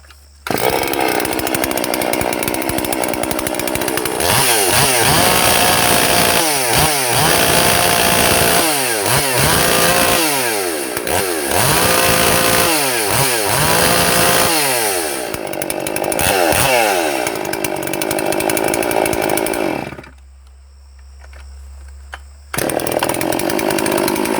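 A carbureted chainsaw engine, running rich, runs loudly and steadily, revving repeatedly up and down, then drops to a brief idle before roaring again.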